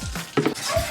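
Ice added to processed Rhode Island Red chicken sitting in water, a short burst of clinking, rattling impacts near the middle, close by and brief.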